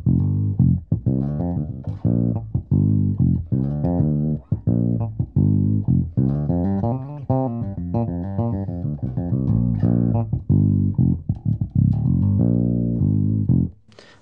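A Music Man StingRay 5 five-string electric bass with an EMG 40DC pickup, tone control rolled off, plays a busy run of warm, rounded notes and fast phrases for about fourteen seconds, close and alone without any talking.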